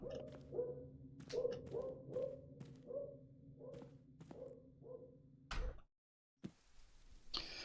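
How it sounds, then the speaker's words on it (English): A dog barks repeatedly in sharp, evenly spaced yelps inside a horror video game, faint and somewhat distant, followed by a brief thud and a burst of static. "Why is the dog barking?"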